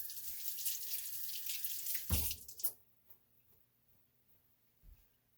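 Running tap water rinses strawberries at a kitchen sink, a steady hiss lasting about two seconds before shutting off, followed by quiet with a soft thump.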